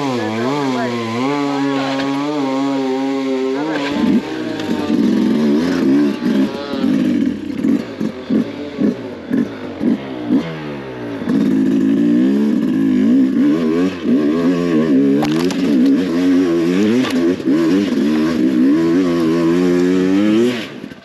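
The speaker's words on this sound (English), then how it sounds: "I don't want to rev it too hard because of the fucking sprocket." An enduro motorcycle engine revs close by in loud rising and falling bursts, with choppy blips in the middle and sustained high revs later, while people talk over it.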